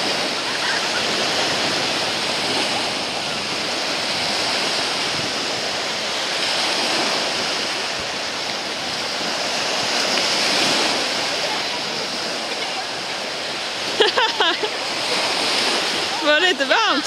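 Ocean surf breaks and washes steadily along a summer beach, a loud continuous roar with wind buffeting the microphone, and a few brief voices and clatters near the end.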